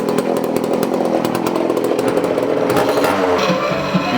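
1981 Poulan Counter Vibe 4000 chainsaw running after repair, its two-stroke engine buzzing loudly and steadily up close with slight revving.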